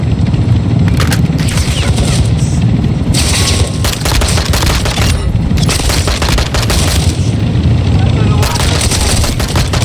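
Sustained automatic gunfire in a shooter game, loud and close, with rapid bursts and booming impacts that pause briefly between volleys, while a voice talks faintly underneath.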